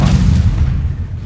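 Stupefy spell cast in Hogwarts Legacy, a loud, booming magical blast with a heavy low thump that fades over about a second, with no voices.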